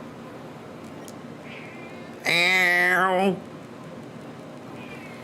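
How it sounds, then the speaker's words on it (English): An indoor cat gives one loud, drawn-out meow lasting about a second over steady background hum, with a faint brief sound before and after it. "You can hear that meow, can't you?"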